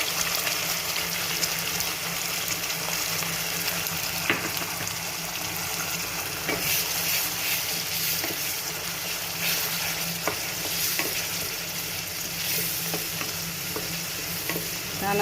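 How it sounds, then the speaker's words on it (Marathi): Ground masala frying in hot oil while being stirred for masala chole, a loud, continuous sizzle close by with repeated scraping stirs, and nobody speaking. "तेल आता छान असं तापलेलं आहे. त्यामध्ये आपण वाटून घेतलेला मसाला घालूया."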